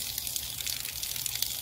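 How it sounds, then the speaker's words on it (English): Water runs steadily into a sampling bottle during disinfection byproduct sampling, a soft continuous trickle heard close up. "Add a little bit more water,"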